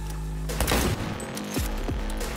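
Heavy machine gun fire in the video game Cyberpunk 2077: dense overlapping bursts of shots with sharp, booming reports through the middle of the clip, with no talking.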